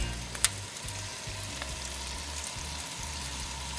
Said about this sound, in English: Well, I can hear it sizzling around.